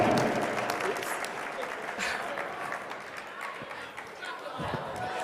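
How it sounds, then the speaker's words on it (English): An audience at a corporate boards panel applauds the interviewer, strong clapping at first that thins into a lighter patter, with crowd chatter under it. "Give her another round of applause."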